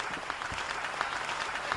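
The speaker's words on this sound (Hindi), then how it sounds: "तालियां बजाओ, यहाँ पे तालियां बजती" An audience at a Hindi comic poetry gathering claps in a brief, fairly faint burst of applause heard from a distance in the hall.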